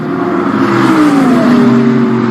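A Zenvo hypercar with a huge rear wing drives past close by, its loud engine note sweeping downward in pitch as it goes by.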